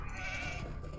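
Brief sheep bleat from a medieval strategy video game, a single short nasal bleat of about a second, fairly faint and heard alone without talk.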